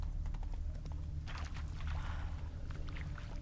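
Roach, the horse in The Witcher 3, plods across rough swampy terrain, its hooves giving a steady clip-clop over a constant low background rumble, with no talk.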